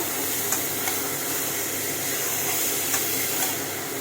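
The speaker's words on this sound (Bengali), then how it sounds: "স্বাদ মতো একটু কষিয়ে নেব" Chicken is sautéed and stirred with sugar in a pan for a home-style chicken roast. A dense, steady sizzle fills the space, with a few soft scrapes of a spoon and no talking.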